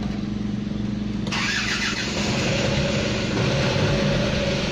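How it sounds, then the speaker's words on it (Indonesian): A Isuzu Panther 2.5 engine cranks and catches, then settles into a steady idle rumble, close by with no speech. "kalau seandainya mesin kita hidupkan seperti ini"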